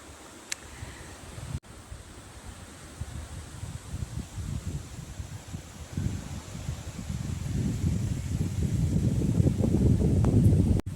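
Steady wind blowing across the microphone, a low rumbling gust that builds gradually and grows louder toward the end, with no voices.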